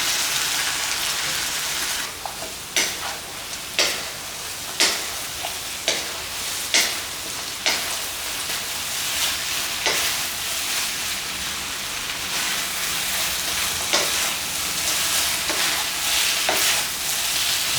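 Sauce sizzles and crackles in a hot wok over crispy sesame chicken, a steady loud hiss broken by regular sharp clacks of stirring and tossing.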